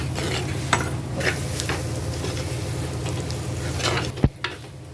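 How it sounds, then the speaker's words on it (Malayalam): Crab curry masala of onion, tomato and chili powder sizzles in a pan while a spoon stirs it with intermittent scrapes, ending in a sharp knock against the pan. "മുളക് പൊടി ഇട്ട് കൊടുത്ത് ശകലം കൂടെ ഇത് നന്നായിട്ടൊന്ന് ഇളക്കാം"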